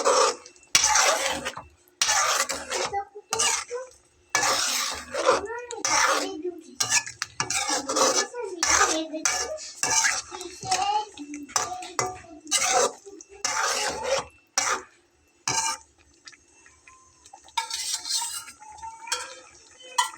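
Rice flour mixture being stirred gently in a pan, a long run of close, repeated spoon scrapes and soft knocks against the metal, irregular in rhythm with short pauses between strokes.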